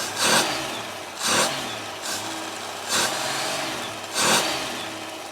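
A 1962 Vauxhall Cresta engine idles close by, with five evenly spaced rev surges about a second apart over a low, steady running rumble.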